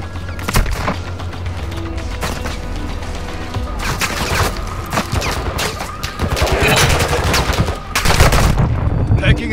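Loud, close bursts of automatic gunfire in Call of Duty DMZ crackle repeatedly, with heavy booming impacts between volleys and some faint game voice chatter underneath.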